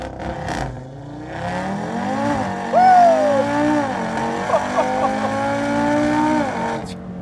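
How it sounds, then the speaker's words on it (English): A built, nine-second 2018 Audi RS3 launches hard at a drag start: the engine revs loudly and climbs through the gears with rising pitch, and tyre noise comes through up close. "we are going to do a drag launch"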